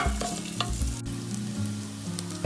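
Cumin, green chili and ginger garlic paste sauté in ghee for a Punjabi rajma masala, crackling and sizzling steadily up close while a spoon stirs with occasional scrapes.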